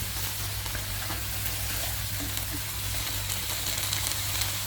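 Snow peas and shrimp stir-frying in a pan, a steady close sizzle with faint crackles running continuously under a low background hum, with no talking.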